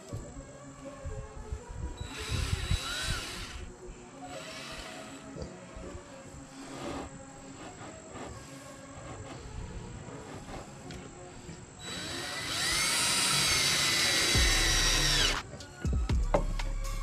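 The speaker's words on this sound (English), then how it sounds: "we're actually gonna screw it down into here. And I'm just gonna use outdoor screws and" Power drill driving outdoor screws with washers into a 55 gallon drum feeder outdoors, several short whirring bursts and one long loud drive near the end, close, with someone talking in between.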